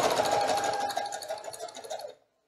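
A sewing machine runs steadily as it stitches fabric for a dish towel, giving a close, fast mechanical whirr with a rapid needle rhythm that slows and stops near the end.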